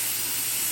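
Aerosol cleaner sprayed onto car differential gears during a clutch and welded diff job, a steady close hiss of spray filling the short moment with no talk.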